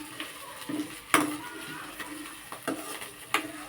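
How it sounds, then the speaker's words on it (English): Puffed rice and coriander stirred in a pan with a utensil, soft rustling scrapes broken by several sharp metallic clinks against the pan, close and intermittent. "And coriander. And stir it properly"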